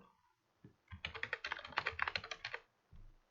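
Typing on a computer keyboard while entering text into a web form: a quick, close run of clicking keystrokes lasting about two seconds, with a few isolated key taps before and after.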